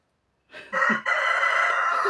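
A rooster crows loudly and close at a rural house yard, one long drawn-out cock-a-doodle-doo that starts with a short rising note and holds steady, with no talking over it.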